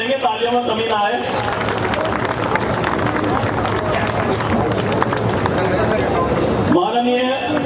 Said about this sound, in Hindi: लोग तालियां बजाते रहेंगे,